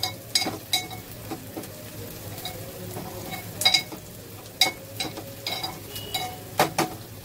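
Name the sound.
onion cooking and being stirred in a pan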